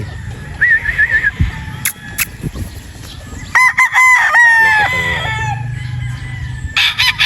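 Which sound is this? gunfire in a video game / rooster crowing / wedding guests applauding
rooster crowing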